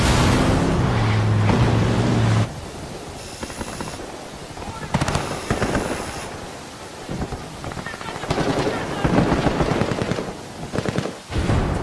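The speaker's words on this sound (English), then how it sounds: "This camp is now erupting into a full gunfight between the rebels and the Santa Blanca." Bursts of rapid gunfire crackle in an intense video game exchange between rebels and Santa Blanca cartel fighters at a camp in Ghost Recon Wildlands, punctuated by heavier booms and a rumbling, chaotic backdrop that swells and fades.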